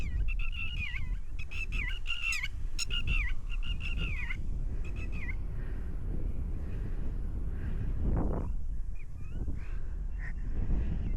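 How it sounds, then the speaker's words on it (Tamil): Bird calling over a flooded paddy field being drained: a run of harsh, honking cries in the first five seconds, then a brief squawk near eight seconds, heard mid-distance against steady outdoor wind and background noise, with no talking. "இப்படி கத்துற பறவை என்ன பறவைன்னு கண்டுபிடிக்கணும்"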